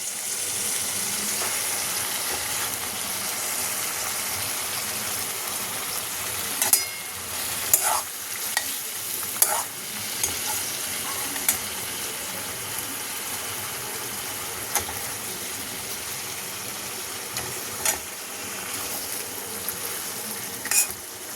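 Bhola fish simmering in a spiced gravy in a pan, giving a steady close bubbling sizzle with a few sharp clicks and scrapes of a stirring spoon, no talk.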